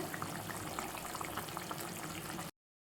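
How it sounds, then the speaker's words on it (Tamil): Karapodi fish curry boiling in a pot, a steady close bubbling and simmering wash that runs unbroken for a few seconds and then cuts off abruptly. "இப்போ மூடியை திறந்து பார்த்தா குழம்பு சூப்பராக கொதிச்சிக்கிட்டு இருக்குது"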